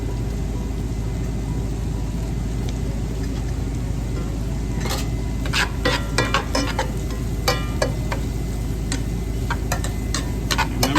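Mushrooms cook in a hot pan at medium-high heat, giving a steady broadband sizzle with scattered crackles and pops that grow busier toward the end, with no talking.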